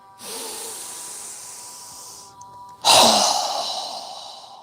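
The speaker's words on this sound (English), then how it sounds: "Go ahead and inhale through your nose. Strong exhale." Breath during a yoga breathing exercise: a long hissy nasal inhale, a brief pause, then a loud forceful exhale that bursts out and tapers away.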